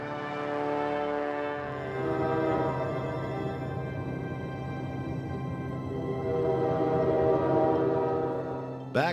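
An Alaska Railroad passenger train, heard around 1996, rumbles along with a sustained low mechanical drone and a tonal horn-like hum throughout. A brief sharp sound comes at the very end.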